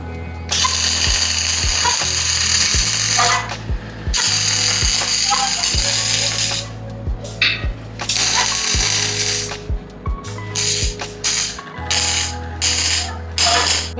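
A cup sambrani making machine running with lathe parts, a loud mechanical whirring with a low hum, broken by repeated clunks and ratcheting clicks and short pauses between cycles.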